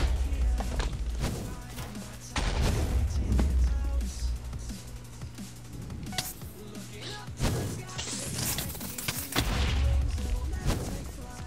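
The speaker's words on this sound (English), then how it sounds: "Machine gun, what the heck?" Machine gun fire rattles in the Minecraft Super Smash Mobs video game, loud dense bursts of rapid shots and thuds that run almost without a break.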